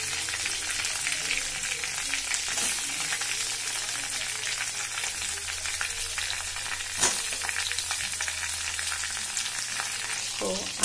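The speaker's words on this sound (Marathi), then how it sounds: "त्यानंतर आपण हे बटाट्याचे पीस केलेले टाकणार आहोत।" Potato pieces frying in a pan for a quick potato bhaji give a steady, dense sizzle throughout, with an occasional clack of a utensil and a brief louder crackle partway through.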